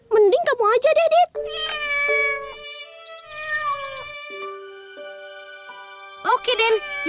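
A kitten meows in high, drawn-out cries under cartoon background music, and people talk before and after the meows.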